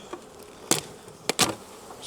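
Aggressive honeybees buzz around an open hive during an inspection, with several loud, close passes by single bees over a faint background hum.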